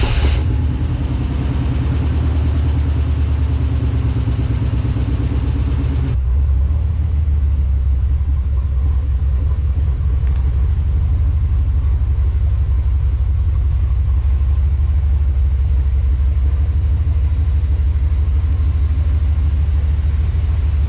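A Chevy Silverado pickup's engine rumbles steadily at a low idle as the truck rolls out, loud and close, with a slight shift in tone partway through and no talking.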